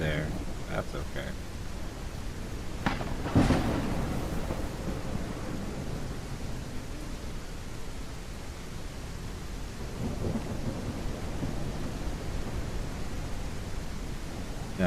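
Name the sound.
thunder in a video game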